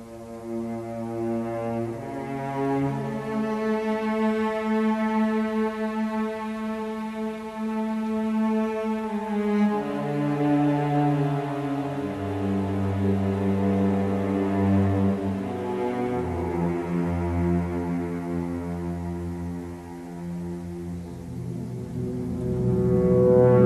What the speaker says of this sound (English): here's a bit of the opening of Jacques Hétu's 3rd Symphony, which you're going to hear